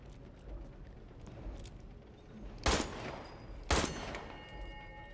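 Gunfire in Resident Evil Village: two loud, sharp gunshots about a second apart over a low, rumbling game ambience, with no talking.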